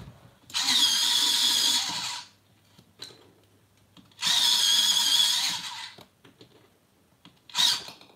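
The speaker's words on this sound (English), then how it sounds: "Let me just sharpen all these up first." An electric pencil sharpener whirs loudly in two long grinding bursts sharpening colouring pencils, then a shorter third one, with quiet gaps between.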